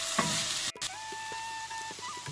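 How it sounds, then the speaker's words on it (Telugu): Onions with turmeric sauté in a pan, a steady close sizzle broken by one sharp clunk as they are stirred. "లైట్ గోల్డ్ కలర్ వచ్చే వరకు మగ్గబెట్టుకోవాలండి ఉల్లిపాయలని."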